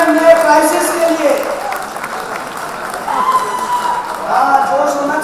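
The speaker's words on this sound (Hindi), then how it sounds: "जोरदार तालियां नए प्राइसेस के लिए।" Loud audience applause and cheering fill a corporate meeting hall as new combo prices are announced, a steady wash of clapping that swells again near the end, with voices mixed in.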